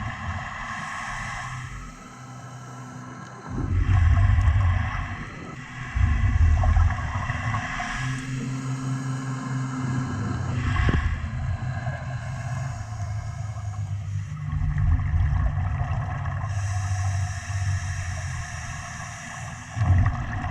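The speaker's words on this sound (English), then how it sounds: "that sound is a boat passing by" Underwater on a reef dive, a passing boat's engine drones in low rumbling swells that rise and fade, layered with bubbly breathing-like bursts and hiss, no talk.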